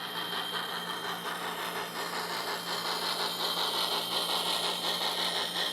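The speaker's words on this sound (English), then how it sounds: "This is a very nicely remotored, redecoded Blackstone engine, which has a TCS decoder in it, which is why it sounds so realistic." A remotored Blackstone narrow gauge model locomotive with a TCS sound decoder pushes a string of boxcars. It gives a continuous, even engine hum with a faint rhythmic rasp, close and unbroken.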